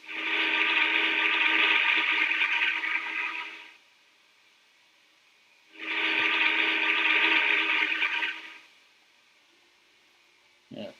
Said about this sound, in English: The early Challenger whistle is probably the best whistle that I made to this day.